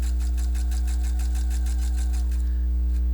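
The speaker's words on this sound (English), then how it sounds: "What I do when I'm stitching this is I pick a point on my foot and I pick a point on my fold over elastic" A sewing machine runs steadily while stitching fold-over elastic, its motor hum carrying a quick, even needle rhythm close up before easing toward the end.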